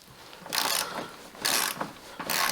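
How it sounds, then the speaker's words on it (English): Torque wrench ratcheting a primary clutch bolt to 35 foot-pounds on a Ski-Doo 850 snowmobile with the brake applied, heard as three bursts of close, crisp clicking with quiet pauses between. "This bolt here, we got to torque to 35 foot-pounds."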